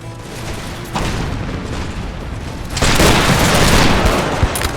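Cannon and musket volleys in Empire Total War, a rolling battlefield din of overlapping booms and crackling shots that swells noticeably louder partway through, continuous with no pauses.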